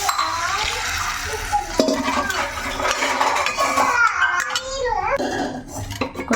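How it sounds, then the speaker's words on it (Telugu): Tamarind juice poured into a cooking pot, with liquid splashing and pots and utensils clattering close by, mixed with faint background voices and clinks over several seconds. "చింతపండు పులుసు కూడా వేసేస్తున్నాను దీంట్లో"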